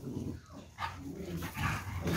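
A dog in a kennel gives a few short, muffled barks and whimpers at moderate distance over a dense background noise.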